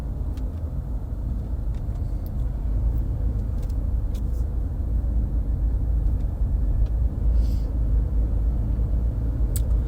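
Steady road rumble of a car cruising along a highway past nearby homes, a continuous low engine and tire drone with faint passing traffic, no voices over it.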